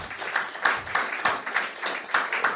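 An audience at a leadership colloquium claps together for a recognized guest, producing a steady, moderately loud patter of many hands with a loose rhythmic pulse, slightly distant in a hall.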